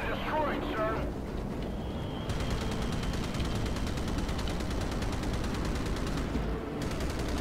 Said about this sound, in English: Enemy fire is being directed at us.